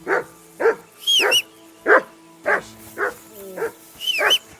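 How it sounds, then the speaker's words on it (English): A dog in the video game Kingdom Come: Deliverance II barks repeatedly at close range, about ten sharp evenly spaced barks, with no talk over them. "I assume you can hear that damn dog of yours barking."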